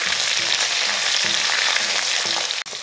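Chopped onion and okra sauté in a hot pan for a tamarind curry, giving a steady, close sizzle with soft scraping stir strokes and a brief clatter near the end.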